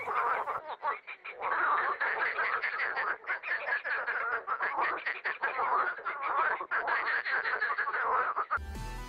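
Green water frogs croak in a dense, continuous chorus of rapid rattling calls, loud and close, overlapping without pause for several seconds before an abrupt cut at the end.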